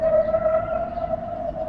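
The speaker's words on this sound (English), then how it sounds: "Some loud sirens, I should say." Air raid siren sounding in Israel during a rocket alert, a steady sustained wail holding one pitch, loud and continuous throughout with no talk over it.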